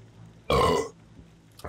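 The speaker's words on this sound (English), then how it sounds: "Ninja burp" A single loud, close burp rings out for about a third of a second after soda drinking, set in a quiet room with a faint voice starting at the very end.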